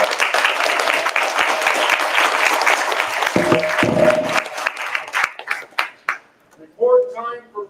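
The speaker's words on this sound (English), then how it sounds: "Let's give ourselves a round of applause" Audience at an evening fight event bursts into applause, a loud crowd clapping that holds for several seconds, then thins out into scattered claps before a voice speaks over the hall.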